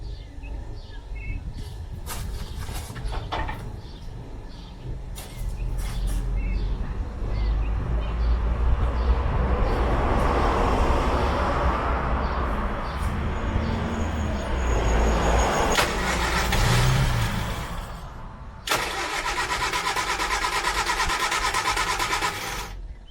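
A rare 1970s Austin Allegro engine runs at idle close by while the idle is adjusted, a steady mechanical hum and rattle that swells in the middle and shifts tone toward the end.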